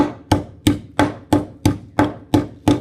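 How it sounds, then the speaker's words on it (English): Rhythmic hammer strikes on metal, eight crisp evenly paced blows close up, each ringing briefly before the next. "So the first round, we do a lot of fixing and kind of hammering out"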